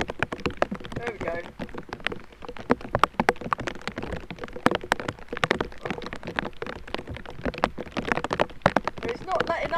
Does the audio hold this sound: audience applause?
no